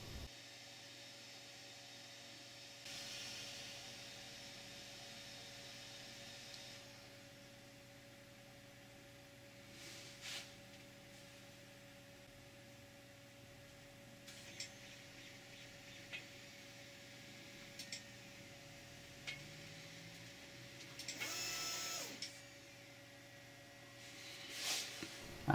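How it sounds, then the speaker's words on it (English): A multi-material 3D printer hot end with a six-input combining block performs a tool change, a faint steady fan hiss and hum with scattered small clicks and brief mechanical whirs, a louder burst near the end. "So this is the tool change macro in action when I go from T0 to T1."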